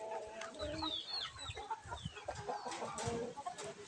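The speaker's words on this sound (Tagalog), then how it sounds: "Lima po na egg-laying hens o white leghorn." White Leghorn egg-laying hens cluck in a close flock, five birds giving overlapping irregular clucks and short squawks over farmyard background noise, with no talking.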